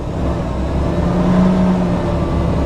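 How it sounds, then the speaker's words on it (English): A car engine revs up and holds a raised, steady whir on a long road drive, loud and close inside the cabin with no voices. "We need to rev her up."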